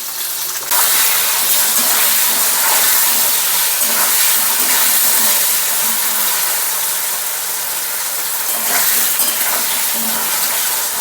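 Taro pieces frying in fish oil with salt and turmeric: a loud, continuous bubbling hiss that starts abruptly and holds steady throughout, close up, with no speech.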